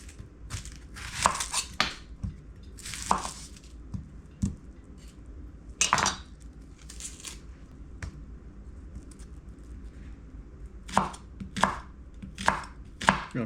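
Knife chopping red onion on a cutting board, bursts of quick crisp cuts separated by short pauses, close and clear with no talking.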